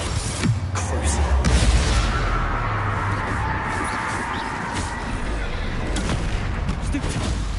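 Spell-casting combat in Hogwarts Legacy fills the scene with dense, continuous booming blasts and crackling impacts, loud and layered, peaking in the first two seconds and rumbling on steadily afterward.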